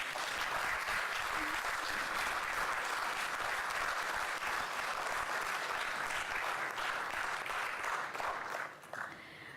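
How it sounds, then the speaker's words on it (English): Steady applause from a university conference audience honoring professors on stage, a dense, even patter of many hands that stays constant and tapers slightly at the very end. "The professors on the stage deserve a big round of applause."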